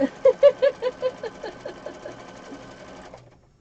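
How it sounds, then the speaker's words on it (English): Sewing machine running a straight stitch through a junk journal, a fast rhythmic run of needle strokes, loud and close at first, then easing off and stopping after about three seconds with no talking. "Actually, I'm going to do a straight stitch just because I want it goes faster."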